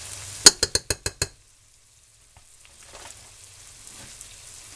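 Andouille sausage and onion browning in a soup pot for corn chowder, with a quick run of about six sharp spoon-against-pot clacks near the start, then a faint, sparse sizzle in near quiet.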